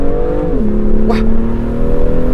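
BMW M2 engine held at a steady drone with a constant tone, then revving higher from a standing start, loud and close with a brief whoosh over the top.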